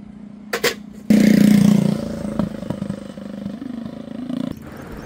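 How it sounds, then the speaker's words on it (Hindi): Honda 125 motorcycle ridden at speed near the Pakistan–India border desert: a loud, rough engine roar swells in after a couple of short clatters, then settles into a steady drone with wind buffeting, no talk. "हुंडा 125 जो है वो 120 का मीटर पूरा निकाल रहा है।"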